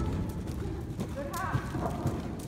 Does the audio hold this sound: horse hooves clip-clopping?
yes